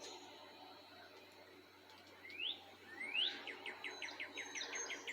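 Small birds sing in a quiet neighborhood, thin chirps and rising whistles coming in short bursts after a couple of seconds of calm, then repeating in quick rhythmic trills over faint background hum.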